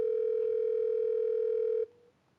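Steady telephone tone in the detective game Criminal Expert, a single loud continuous beep holding for nearly two seconds before cutting off abruptly, with no talking.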